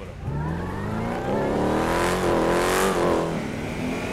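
A Porsche in a GTA 5 video game drag race gives a loud, continuous engine roar that revs upward through rising gear pitches, with a brief shift and climb again, without any speech.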